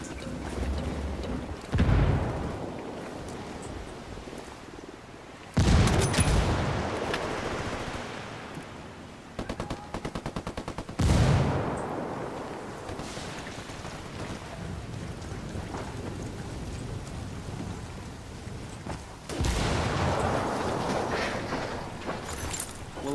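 Grenade blasts and gunfire in the video game Ghost Recon Wildlands, several sharp booming explosions spaced out over a rumbling, rain-like game ambience, with scattered bursts of shots between them.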